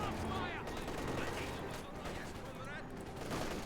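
Rapid bursts of small-arms and machine-gun fire rattle continuously in a Company of Heroes 2 battle, OKW against Soviets, dense and busy throughout with a voice partly underneath.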